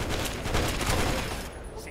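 A weapon in Fallout 3 fires a rapid stream of gunshots, a dense fusillade of closely spaced cracks that holds steady and then trails off.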